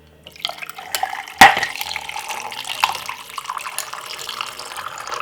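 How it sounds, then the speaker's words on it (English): Cold water from a fridge is poured into a glass holding ice, a trickling splash with a sharp clink of ice near the start and lighter ticks as the stream runs on, close and fairly quiet. "I'm gonna take the water from my fridge and I'm gonna pour it"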